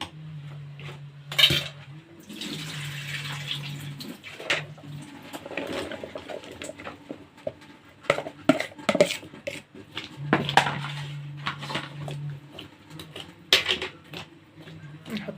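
Potatoes tipped into a pot of meat and vegetable casserole, with clinks of utensils and dishes, scraping and clatter, and a low hum running under the handling.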